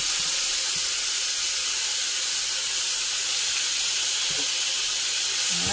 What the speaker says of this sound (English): So we're going to let this saute.